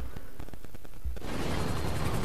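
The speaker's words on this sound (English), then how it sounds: "You just shot your propellers out." Rapid bursts of aircraft gunfire in GTA Online, a string of sharp close shots followed by a dense roar of continuous firing and engine noise during an aerial dogfight.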